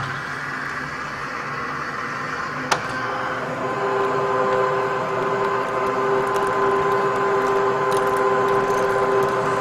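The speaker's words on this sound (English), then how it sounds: "The threading process for this is the same as you would with any other piece of pipe when you're using the 714 die head" A RIDGID 1224 threading machine cutting pipe threads with a 714 die head, set to 12 RPM, giving a continuous mechanical drone with a steady tone, one sharp click early on, and a slightly louder, even whine after.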